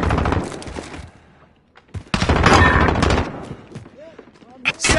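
Bursts of automatic gunfire from the video game Modern Warfare crackle in quick, loud volleys with short pauses between them, with voices shouting in the background.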